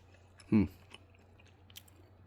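A single brief, close chew of firm Jarlsberg cheese, a short moist crunch standing alone in near silence.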